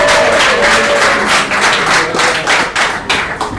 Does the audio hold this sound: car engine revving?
no